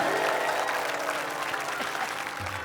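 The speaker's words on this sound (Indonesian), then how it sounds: "Kasih tepuk tangan deh, kasihan." Audience applause fills a TV comedy show studio, steady dense clapping from a crowd throughout, loud and close, with a brief voice near the end.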